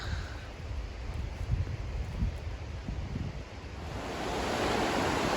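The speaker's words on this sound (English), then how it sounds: "I'm just gonna keep the sound of the river to my right" Steady broadband rushing water flows continuously, swelling slightly louder toward the end, with no voices.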